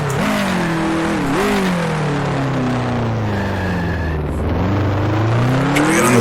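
Sustained race car engine note from the Grand Prix Legends racing game, a 1966 Formula One car at Monaco, with pitch rising and falling as the driver accelerates and lifts, loud and continuous with a brief tire squeal.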